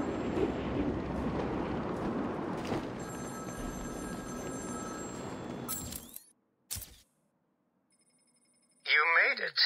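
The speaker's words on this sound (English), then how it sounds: "Back here, this was the first phone that rang." Telephone ringing in the video game Batman: Arkham City, a thin ringing tone under a heavy rumbling wash of game noise that cuts out, followed by near silence and a sudden loud burst at the end.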